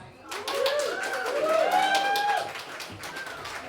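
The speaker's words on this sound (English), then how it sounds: "please put a round of applause and politeness and respect for Alice" An audience claps for poet Alice Skye at a Transtock gig at The Globe in Newcastle, steady applause with a few whoops and cheers rising over the clapping before it thins out.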